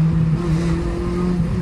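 A Renault Clio engine with a piece of its exhaust removed holds a loud, steady, droning rev close by, its deep tone humming evenly with no talking.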